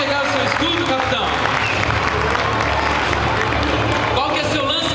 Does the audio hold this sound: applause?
yes